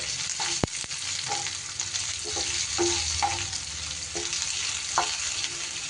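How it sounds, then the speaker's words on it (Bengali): Chopped onion is stirred with spices in a hot pan: a steady close sizzle and fry with occasional scraping and clinks of the spoon against the pan. "আগে থেকে আমি কুচো করে কেটে রেখেছিলাম সেই পেঁয়াজটা একটু 30 সেকেন্ডের মতো নাড়াচাড়া করে নেব মশলার সাথে"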